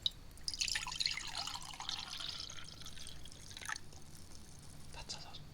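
Water poured from a jug, a soft hissing splash running for a few seconds up close, with faint whispering around it in a quiet setting.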